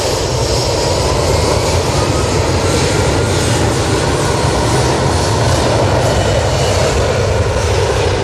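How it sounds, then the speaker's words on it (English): An Aer Lingus airliner rolling at Manchester Airport gives a loud, steady engine roar with broad rushing noise, sustained and unbroken with no voices. "the Aer Lingus is rolling"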